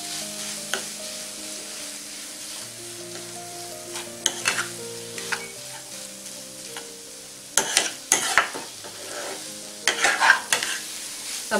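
Paneer bhurji frying in a pan, a soft steady sizzle broken by scraping stirs that grow sharper and more frequent toward the end, with no talking.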